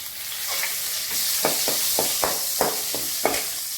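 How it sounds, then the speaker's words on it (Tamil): Mustard seeds and curry leaves sizzling in hot oil under a bright steady hiss, with a string of sharp pops and crackles spaced about every half second. "இப்போ இதில் கடுகு பொரிஞ்சிருச்சு கருவேப்பிலை போட்டுக்கலாம்"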